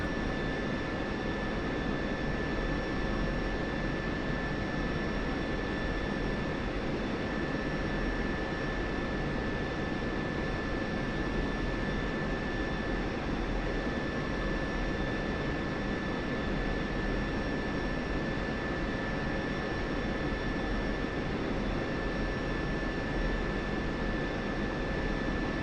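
A steady, constant jet-engine roar with a faint high whine from an A-10 taxiing in the DCS World flight simulator, unchanging and continuous with no talk over it.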